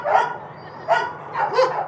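Dogs in outdoor concrete kennels barking at a stranger, three loud, close bursts of barks with short gaps between them and no speech.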